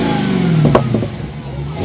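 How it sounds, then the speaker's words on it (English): A Demon 170 car's engine with stock exhaust burbles and revs while the exhaust lets out a few sharp, close pops in quick succession. "Hear the backfires?"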